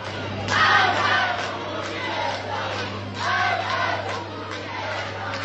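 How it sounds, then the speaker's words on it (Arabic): A crowd of women protesters chants slogans in rhythmic bursts inside a Tehran metro station, voices rising and falling in repeated phrases over a steady low hum. "تداول ناشطون مقاطع مصورة لنساء يهتفن بسقوط الجمهورية الإسلامية في إحدى محطات المترو في طهران"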